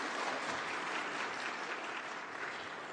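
Dense, steady applause fills a large General Assembly hall, a continuous wash of many hands clapping without a break.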